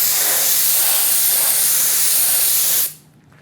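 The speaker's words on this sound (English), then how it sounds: "Just a little bit of compressed air." Compressed air blasts in a loud, steady, close hiss as it blows pumice residue off a surface in a finishing studio, then cuts off abruptly near the end, leaving quiet room tone.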